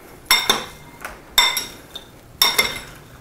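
Croutons and dressing being folded together in a small mixing bowl, three sharp clinks of a utensil against the bowl with fainter scrapes between, close and clear with no talk.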